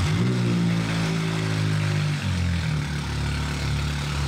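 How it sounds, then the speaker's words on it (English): A car engine with its catalytic converter missing runs loud and steady with a deep, droning exhaust rumble, dipping briefly in pitch midway before holding its level, close by with no talk. "I asked him to lower the car, which was missing its converter, so we could hear how loud it sounds when that happens."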